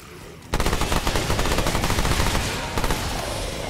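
A loud, sustained burst of rapid SMG fire in a video game starts abruptly and rattles on continuously for several seconds at close range.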